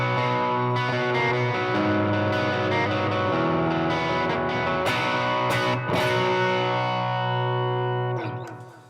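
A Telecaster electric guitar runs through stacked Euphoria and Tube Screamer overdrive pedals, its sustained, saturated chords ringing loud and steady with a few strummed accents before the tone fades out at the end.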